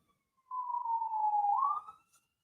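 A distant ambulance siren gives one faint, drawn-out wailing tone that dips slightly and then rises, fading after about a second and a half with no talk.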